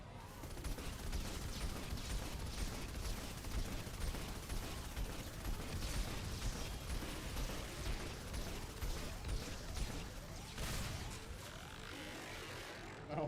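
Turret gunfire and explosions rattle through a firefight in the video game Mass Effect, a dense, continuous barrage of shots and blasts at moderate loudness.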